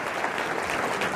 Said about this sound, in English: How about a big round of applause for the engagement?